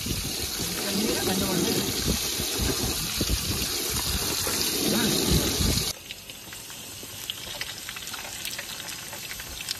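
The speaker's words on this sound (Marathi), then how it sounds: "जाम जोरात पाऊस आलाय." Heavy monsoon rain pours at a campsite by Bhandardara dam as a loud, steady hiss for about six seconds, then cuts off sharply to a quieter background; voices are faintly present.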